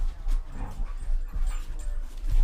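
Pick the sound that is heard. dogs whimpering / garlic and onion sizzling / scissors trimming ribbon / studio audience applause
dogs whimpering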